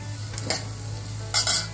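Finely chopped vegetables with beans and corn for soup being sautéed in a pan, a low steady sizzle broken by two short scraping stirs of a spoon, close, no voices.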